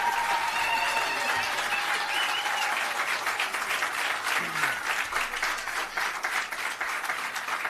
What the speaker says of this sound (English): I hereby ask you to rise and give him a round of applause and a standing ovation.